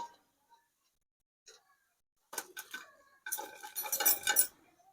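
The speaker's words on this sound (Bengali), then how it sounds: "রাখার আওয়াজ শুনে বুঝতে পারছেন পকোড়াগুলো কতটা ক্রিস্পি হয়েছে" Light clinks and rustling taps as crisp fried mixed-dal pakoras are dropped into a dish, coming in short clustered bursts after a quiet start.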